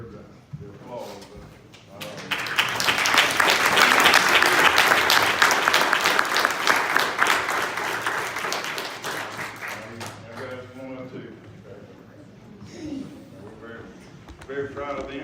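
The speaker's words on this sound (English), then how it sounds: "they're the ones who deserve the applause" Sustained applause from a county commission meeting audience honoring a group of young court players, swelling to a full, dense roar before thinning out, with voices speaking over the tail end.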